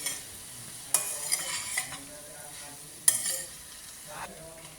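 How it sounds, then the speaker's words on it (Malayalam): A spoon stirring boiled chickpeas in a cooking pan with a soft sizzle underneath, a few sharp scraping clinks against the pan standing out over quiet frying. "ഇനി ഇതിനകത്തേക്ക് നമുക്ക് വേവിച്ച വെച്ച കടല ഇടാം. ഇത് നന്നായിട്ട് ഇളക്കണം."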